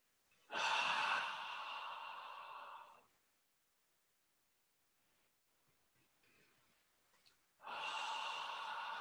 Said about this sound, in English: Breathe in with a loud ha.